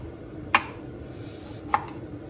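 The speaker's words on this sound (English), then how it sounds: "So we just cut the tomato in big cubes." A sharp kitchen knife chopping a tomato into big cubes on a board: two distinct crisp chops about a second apart, close up, over a quiet room hum.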